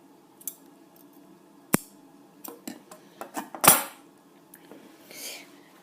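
Scissors snip through the end of a cord Mad Max bracelet, a few sharp close clicks and metallic snaps scattered over a quiet background, with one louder cut near the end and no talking.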